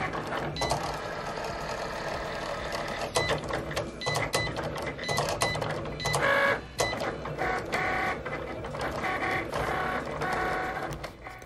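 A Cricut Explore Air 2 cuts red vinyl, giving a steady mechanical whir with rapid clicking, ticking carriage movements and short bursts of motor noise, close by and continuous without talk.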